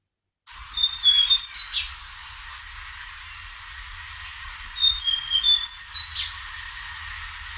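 A Tickell's blue flycatcher in Uttarakhand gives bright, high sweet phrases in two separate bursts over a steady background hiss.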